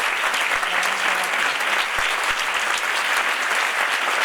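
Conference audience at a women's event applauding in a full hall, a loud, steady, dense roar of many hands clapping throughout with no break.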